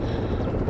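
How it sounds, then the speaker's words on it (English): Helicopter rotors thrum in a low, dense, continuous rumble, a steady mechanical drone with no other sounds over it. "Soon, helicopters approach."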